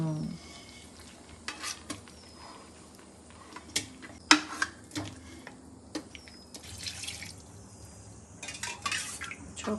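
Marinated chicken going into a pot while Bengali chicken tehri cooks: soft sizzling under scattered clinks of a spoon against metal, stirring scrapes and a few sharp knocks, with no talking.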